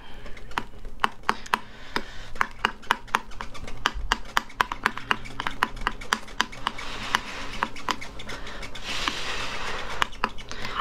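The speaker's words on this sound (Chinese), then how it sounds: "然后要不停的搅拌" A spoon stirs a thick, sticky hot drink made with boiling water, producing quick, rhythmic clinks and taps against the cup, close and crisp, with a faint soft wash of noise underneath.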